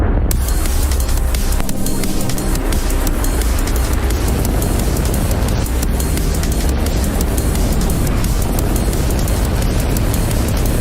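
A rocket lifting off for the Hughes Jupiter 3 mission, a dense, loud, continuous roar with crackling texture that holds steady throughout.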